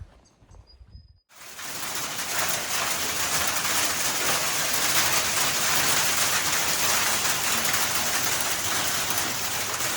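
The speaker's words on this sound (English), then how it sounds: "We're greeted with a hailstorm. Thankfully, it's only little hail." Small hail pours down in a summer hailstorm, a dense, steady hiss of pellets striking surfaces that starts abruptly after a brief quiet moment and continues loudly without pause.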